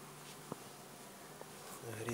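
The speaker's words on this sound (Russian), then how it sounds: "Пчела мотается." A faint, steady insect hum of Buckfast honey bees buzzing around a hive, with a couple of tiny clicks and a low background drone.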